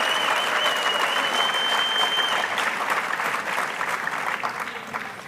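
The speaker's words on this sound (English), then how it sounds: "Let's give them a round of applause." A dense, sustained round of applause fills a high school senior awards ceremony, the crowd clapping steadily at close range with a slight fade toward the end.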